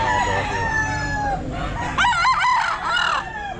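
Golden Boy stag rooster crowing loudly and close in a pet market, several strained crows in quick succession, with some background murmur beneath.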